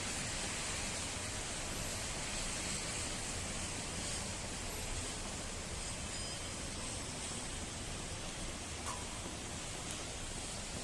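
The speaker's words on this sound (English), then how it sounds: "It's absolutely pouring now." Heavy rain pours steadily in Benidorm on St Patrick's Day, a dense, even hiss of falling water that stays constant and fairly soft throughout, with no voices.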